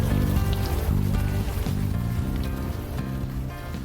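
Steady rain falling on a city street in the game Unavowed, a constant hiss of drops under a low, soft repeating music tone.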